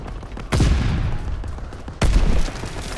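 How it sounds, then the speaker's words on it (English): Gunfire in the World War II shooter Call of Duty: WWII, two loud, sharp volleys about a second and a half apart, each trailing into a rolling rattle of shots over battlefield noise. "Keep firing!"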